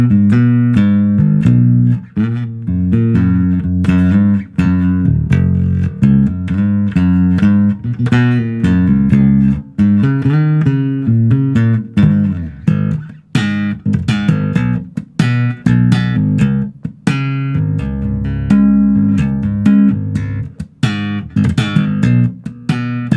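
A 1988 Japanese-made Charvel 1B bass guitar plays a driving metal-style line, with steady low notes throughout, loud and close, and no voices.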